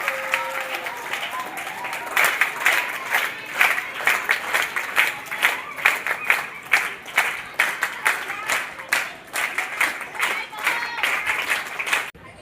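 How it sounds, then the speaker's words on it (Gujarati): Loud applause from the crowd at a primary school event in Porbandar rolls on for about ten seconds, with a voice heard briefly at the start and the clapping surging in waves. "જોરદાર તાળીઓથી અનિલભાઈને વધાવીએ"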